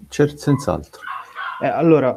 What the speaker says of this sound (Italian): scusate il cane